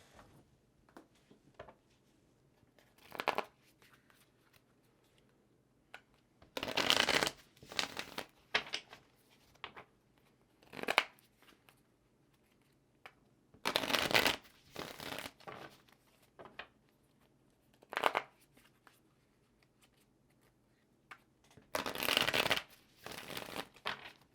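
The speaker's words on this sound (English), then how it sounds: "let's get one more shuffle" Tarot cards are shuffled in several separate bursts of riffling and rustling, close up, with quiet pauses between each shuffle.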